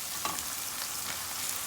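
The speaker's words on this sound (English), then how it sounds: "So let's cook the onion until it's translucent" Chopped onion fries in a pan, giving a steady, soft sizzle with faint crackles and no talk.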